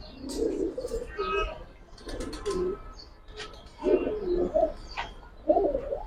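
A pair of Indian high flyer pigeons in a loft coo repeatedly, producing soft, throaty coo phrases in several separate bursts over faint background noise.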